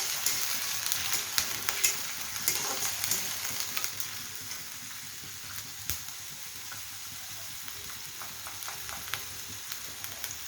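Ginger and garlic paste sizzles steadily in a hot pan, a dense close crackle with scattered sharper pops and stirring scrapes throughout.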